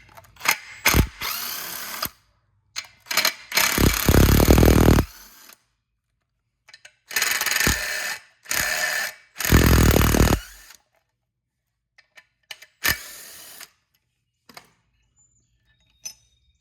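An 8mm bolt being removed from a rear bracket on a diesel Jeep Gladiator, heard as bursts of ratcheting wrench clicks and tool whirring in several separate runs with quiet gaps between, close and alone.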